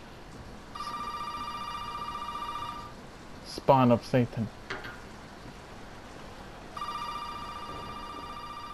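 A telephone rings in the horror video game Resident Evil 7, a steady electronic trill repeating in two long bursts with a gap between, while someone speaks briefly in the pause.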